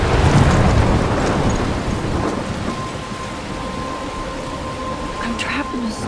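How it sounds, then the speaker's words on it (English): Thunderstorm in the Life Is Strange video game: heavy, steady rain hisses throughout with deep rolling thunder rumbling underneath, a sustained close wash of storm noise with no break. "I'm trapped in a storm?"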